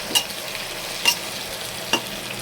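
Chicken pieces are sautéed and stirred in a pot for a plain Bengali chicken stew. A soft, steady sizzle runs throughout, broken by three sharp spatula scrapes against the metal.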